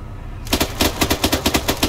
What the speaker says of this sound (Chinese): 阿 Q， 帮我补位，打死前面那一个人